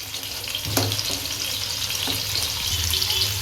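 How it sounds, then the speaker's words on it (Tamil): Boiled chicken fries in a small amount of oil with a steady, close sizzle and crackle, broken by a couple of sharp clinks and scrapes as it is stirred in the pan. "இப்போ நம்ம கொஞ்சமாக எண்ணெய் சேர்த்து நல்லா வேக வச்சு எடுத்துக்கலாம் பொறிச்சு எடுத்துக்கலாம்"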